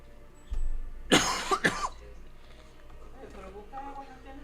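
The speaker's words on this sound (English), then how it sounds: "there's something in my throat that's making me cough" A low thump, then a couple of harsh coughs close by, followed by faint murmuring voices in the background.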